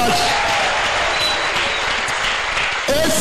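A church congregation applauds together in a dense, sustained burst of clapping that fills the room, with voices carrying over it.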